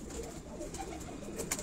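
Teddy breeder pigeons cooing on a rooftop loft, soft repeated coos close by over a quiet background with no talk.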